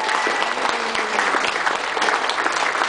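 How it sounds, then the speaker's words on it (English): Audience applause for a father-and-son accordion duet fills the room, steady dense clapping that stays loud and continuous throughout with no voices over it. "give them both a big round of applause"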